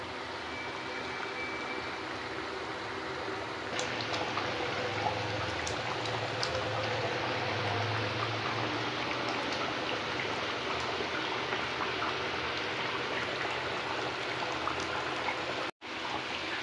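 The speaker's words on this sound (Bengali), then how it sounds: "তো এটা ভালোভাবে ফুটছে" Chicken kosha curry with added water bubbles in a pot, a soft continuous simmering hiss that holds steady and fairly quiet throughout, cutting out for an instant near the end.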